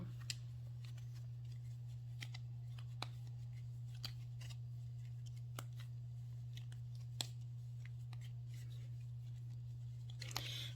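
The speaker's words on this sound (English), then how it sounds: "So I'm going to shuffle the cards" Tarot cards are shuffled by hand at close range, giving scattered crisp snaps and soft slides at an uneven pace over a constant low hum.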